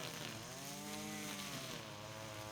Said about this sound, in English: He is so serious when he weed whacks.